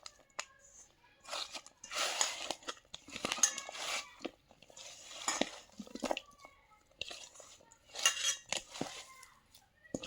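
Boiled potatoes being mashed by hand in a dish for bharta, giving irregular soft squishing and scraping bursts with occasional light clinks of utensil against the dish, close and quiet.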